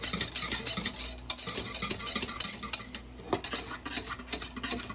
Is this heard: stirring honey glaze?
yes